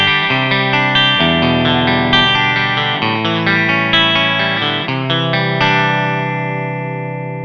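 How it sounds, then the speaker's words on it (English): Electric guitar played through a Kinman SurfMaster zero-hum bridge pickup, a clean chorused tone with slight grit, strummed chords and picked notes ringing steadily and fading at the end, with no talking. "Here we go, the bridge pickup."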